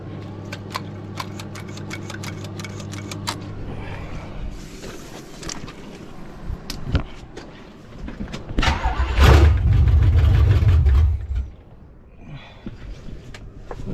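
A 1973 Chevy Nova engine is worked from the throttle under the hood, with mechanical ticking and shuffling before a loud rumbling burst of cranking and running for a few seconds, then quieter clatter.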